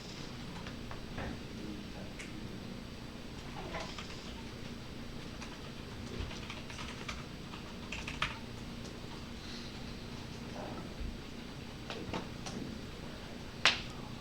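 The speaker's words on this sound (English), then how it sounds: "I hear some typing still going on" Students type on computer keyboards in a C# programming class, giving faint, scattered clicks over a steady room hum with no talking.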